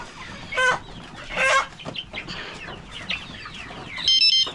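Chickens on a poultry farm cluck in several short, loud bursts, with quieter scattered clucks and bird calls in between and a sharper squawk near the end.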